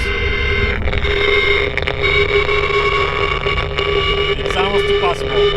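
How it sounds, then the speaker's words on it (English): The front differential of a BMW M5 F10 runs at 2000 RPM, a steady tonal whine and hum heavily buffeted by wind noise on the microphone, with someone speaking over it. "This microphone is attached to the front of the differential, so because of the wind it's kind of hard to notice anything."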